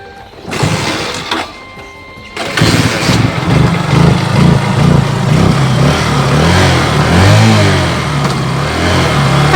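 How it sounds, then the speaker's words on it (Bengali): A motorcycle engine fails to start: two short bursts of cranking cut off, then a longer rough sputtering run that churns and wavers loudly up close without settling into an idle. "বাইকের স্টার্ট উঠছেই না"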